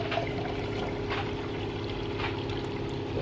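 Water pouring into a custom-built fuel tank for a micro chopper, a continuous trickling splash under a steady low mechanical hum from machines running in the background.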